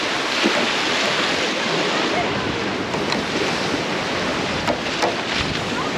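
A sailboat out at sea off Cape York in about 20 knots of wind, with steady rushing wind and broken surf noise filling every moment, loud and continuous with occasional knocks and creaks aboard.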